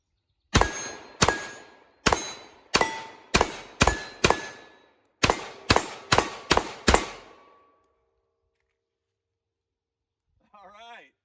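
Smith & Wesson Carry Comp pistol fired at targets: about a dozen loud, sharp close shots in a steady rhythm, with a short pause midway and ringing decay after each. A few spoken words follow once the shooting stops.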